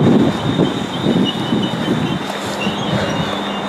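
Train pulling into a station at Birmingham International or Stockport, a steady rumbling roll with faint rhythmic wheel beats and a thin high squeal, fairly near.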